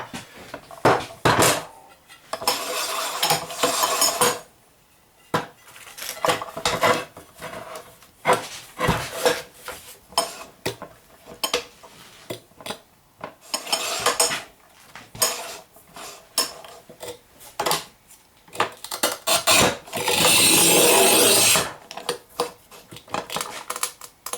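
A RUBI Speed-62 manual tile cutter works through porcelain stoneware, giving repeated sharp scraping and clacking bursts with a long bright scoring stretch near the end, loud and close, with no talk.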